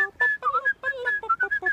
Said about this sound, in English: I was actually whistling it